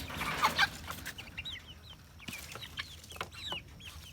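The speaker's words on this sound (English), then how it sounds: "Here's some of the chickens that we hatched from egg." Several chickens cluck and chirp softly nearby in short, scattered calls over a quiet outdoor background.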